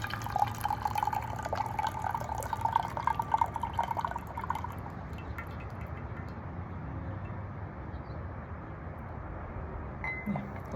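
Hot water poured over loose tea leaves into a cup or pot, a steady trickling pour with light clinks and drips that softens after a few seconds into a quieter liquid murmur, close and unaccompanied by talk.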